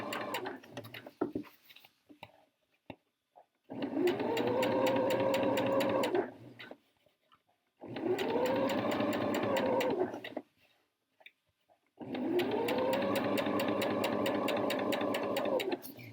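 A sewing machine stitches a long straight seam on a jacket in three sustained runs of steady rapid whirring, each separated by brief pauses, close and loud with no talk.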